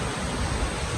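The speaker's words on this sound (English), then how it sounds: "That's the wind right now." Wind blows hard during rainy weather in the Philippines, a steady broad rushing roar like surf that fills the whole second without a break and with no voices.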